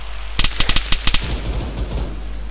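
Video game gunfire, a rapid burst of about ten loud close shots in uneven rhythm followed by fainter scattered pops and a low steady hum.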